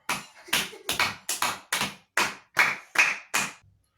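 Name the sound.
applause, clapping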